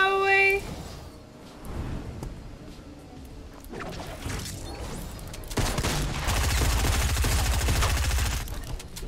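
Gunfire in the video game Fortnite: Battle Royale, with rapid bursts of shots and impacts rising in intensity toward the end, mixed with other game sounds after a short musical tone at the start.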